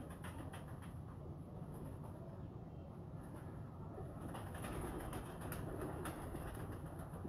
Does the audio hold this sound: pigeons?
yes